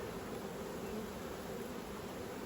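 Honey bees buzz at an open, weak beehive during an inspection, a steady close-up droning hum with no voices.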